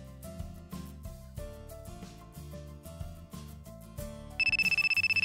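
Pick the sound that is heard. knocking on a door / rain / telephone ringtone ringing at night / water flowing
telephone ringtone ringing at night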